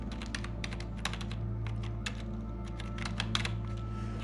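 Fingers type an employee name on a computer keyboard, a close run of quick, uneven key clicks over a steady low electrical hum, with no talking.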